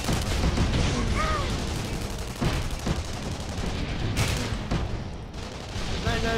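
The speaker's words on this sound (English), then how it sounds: "Shooting! And missing!" Gunfire in the video game Tribes Ascend during a jetpack firefight: dense, continuous shooting and blasts layered over one another, with a voice partly buried beneath the noise.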